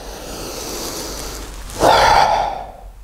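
A single deep inhalation during a guided breathing exercise, drawn in audibly through the nose and mouth, following a quieter stretch of soft breath.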